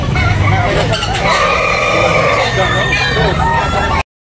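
Roosters crow repeatedly amid the constant bustle of a busy chicken market in Tabunok, Talisay, Cebu, with voices talking throughout and the crowing blending into the crowd noise.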